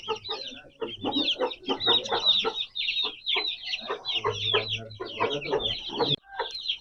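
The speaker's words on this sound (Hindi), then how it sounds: "वो और सावा मुर्गा खड़ा है जी।" Aseel rooster clucking close by in a breeder's cage, a rapid run of repeated throaty clucks with brief pauses, fairly quiet and with no talking over it.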